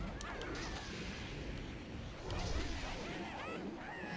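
Cannon fire booms in the video game The Legend of Spyro: A New Beginning, a few muffled blasts and bursts amid busy game effects and music.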